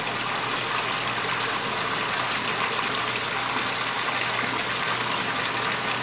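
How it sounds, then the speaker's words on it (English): Hot water rushing steadily into a Bradley Navigator thermostatic mixing valve, a loud, constant broadband gush with a low mechanical hum underneath, unbroken and close for the whole stretch. "Once I reintroduce the hot water into the valve, within a matter of seconds, I will come back to the desired set point."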